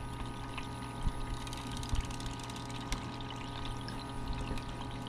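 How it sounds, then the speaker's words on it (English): Water pouring and trickling steadily over a gold sluice during a micro gold cleanup, a constant rushing wash with a few small knocks and splashes on top. "let's turn up the water a little bit more"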